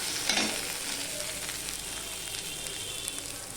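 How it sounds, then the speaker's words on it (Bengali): Chopped ginger fries in hot oil in a pan for a Bengali pui shaak and fish head dish, a steady soft sizzle with a brief stir-scrape near the start, close and quiet with no talk. "আদার কাঁচা গন্ধ যতক্ষণ না যাচ্ছে ততক্ষণ পর্যন্ত আমি আদাটাকে ভেজে নেব।"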